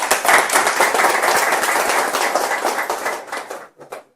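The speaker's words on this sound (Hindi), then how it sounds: "एक जोरदार ताली।" A single loud round of applause from an audience at a Hindi/Urdu motivational seminar, dense clapping sustained for about three and a half seconds before tapering off with a few scattered final claps.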